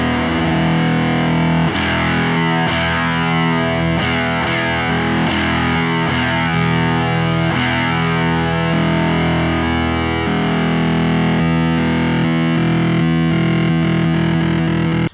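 Electric guitar runs through an MXR Sub Machine fuzz pedal in series and parallel, a dense, heavily distorted riff that stays loud and continuous, with chugging chord hits and a thick buzzing octave-fuzz texture throughout and no voices.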